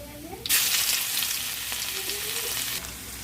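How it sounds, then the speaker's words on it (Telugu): Cumin, dried chillies, turmeric and ginger hit hot oil in a pan with a sudden loud sizzle that holds steady for a couple of seconds, then drops back to a quieter simmer. "ఇప్పుడు ఇందులోకి జీలకర్ర, ఎండుమిర్చి వేసుకుందాం. ఇది ఫ్రై అవుతుంది కదా."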